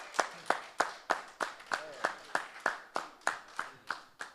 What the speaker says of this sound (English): Come on, y'all clap it up.